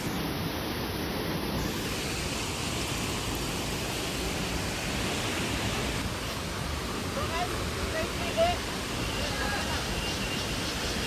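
Water pours continuously at Hidden Falls, a steady broadband rushing roar with no breaks, heard from nearby over rocks.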